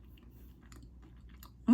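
Someone chews a crunchy chocolate chip cookie heavy on chocolate, with soft, close, quiet crunching and mouth sounds in a hushed room.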